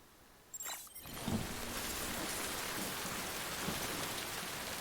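In the video game Death Stranding, after a quiet moment with a soft swish, heavy rain sweeps in and keeps pouring steadily in a constant hiss.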